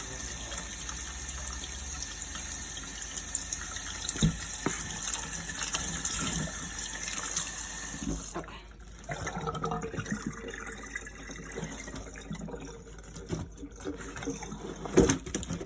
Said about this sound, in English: I didn't quite wash the onion very much, so let's do that real quick